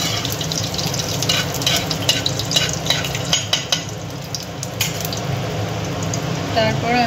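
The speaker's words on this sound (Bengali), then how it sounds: "এই অবস্থায় আমি একটা শুকনো লঙ্কা, তেজপাতা, 5 ফোড়ন দিয়ে একটু নেড়ে" Hot mustard oil sizzling loudly as a dry red chilli, bay leaf and five-spice seeds are stirred in for a banana-flower ghonto, with a constant frying hiss and quick scraping strokes of a spoon in the pan.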